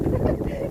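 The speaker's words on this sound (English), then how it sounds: "it is really windy" Strong wind buffets the microphone outdoors in a garden being cleared and mulched around fruit trees, a steady low roar filling the whole moment with no clear break.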